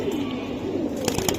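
Giribaz pigeons coo in a low, throaty, continuous rumble close by, with a few brief sharper flutters or clicks near the end.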